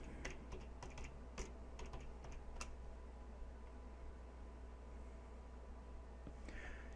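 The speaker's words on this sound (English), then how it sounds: "you would then type in start.bat, like this." Typing on a computer keyboard to enter a short command: a brief, quiet run of keystrokes at the start, then only faint steady hum.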